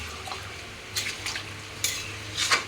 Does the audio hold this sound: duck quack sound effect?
no